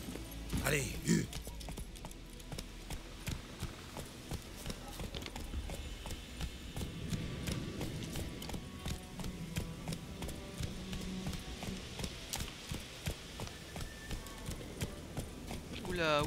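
Horse galloping in The Witcher 3, rapid rhythmic hoofbeats pounding throughout with a short whinny early on, under someone talking in French.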